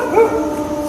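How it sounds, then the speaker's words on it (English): A single short dog bark rings out close and clear, quickly fading against a steady background hum. "that's my dog barking."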